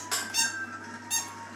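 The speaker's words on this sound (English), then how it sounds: "They've got such a loud squeak in them" Two sharp, bright squeaks from a dog's squeaky Christmas toy, close to the microphone, separated by a brief pause, with no talking.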